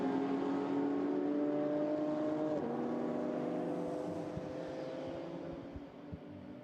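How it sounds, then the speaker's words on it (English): GT4 race cars, an Alpine and a Porsche Cayman, blast past at speed at Jeddah, a loud, steady engine roar that dips in pitch as they go by, then fades with the cars into the distance. "Pascal Houteau then in the Alpine, staying on the back of the Cayman, just up the road ahead. Up towards the timing line, they now blast"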